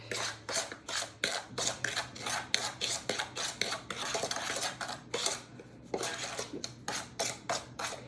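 Sugar being mixed in a bowl for cinnamon roll dough, a spoon scraping and clinking around the bowl in quick rhythmic strokes with brief pauses, close and moderately loud, no voices.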